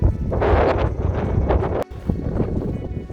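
Strong wind in Joshua Tree National Park buffets the microphone with a loud, continuous roar, briefly dropping out for a moment before gusting on.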